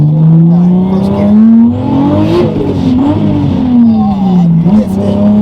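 A single turbo Toyota Supra accelerating hard in first gear, its engine note rising loud and close, dipping briefly at a shift or wheelspin before climbing again.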